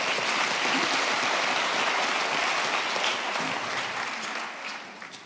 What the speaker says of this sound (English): can we give Prof. Molefe a loud applause?